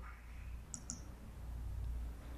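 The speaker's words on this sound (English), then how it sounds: "so let's click on done" A few sharp computer mouse clicks, close and fairly quiet, over a low steady background hum while configuring a CentOS 7 installation.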